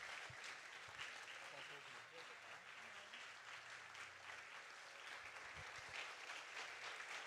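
A church congregation at Igreja Cultura do Reino in Pindamonhangaba, São Paulo, applauds steadily and loudly throughout, with voices audible over the clapping.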